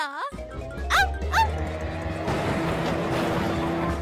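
A cartoon dog gives a short whine, then two sharp barks while chasing, followed by a steady rumbling background.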